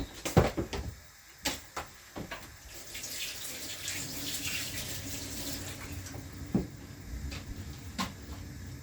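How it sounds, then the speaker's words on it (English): Two eggs are rinsed under a running kitchen tap, a steady stream of water with a few sharp knocks and clatters near the start and a faint click later. "I'm gonna go ahead and rinse them off to get them in the pot."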